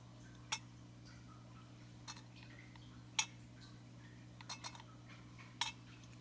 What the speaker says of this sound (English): So I can hear that the float's moving around.